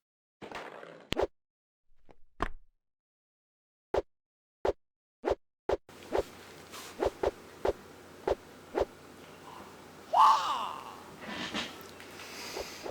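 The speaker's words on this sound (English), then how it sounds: "the swishy hands, like the kung fu swishy hand. Can't have kung fu without swooshes." Kung fu hand swoosh effects in an action film fight scene, a series of short, sharp swishes in quick succession, first over near silence and then over a low background rumble.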